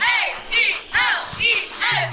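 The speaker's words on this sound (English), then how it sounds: "You guys gonna give us a chant?" A small group of Eagles fans chants the team name letter by letter, E-A-G-L-E-S. The voices come as loud, evenly spaced shouted bursts in a steady rhythm, close by.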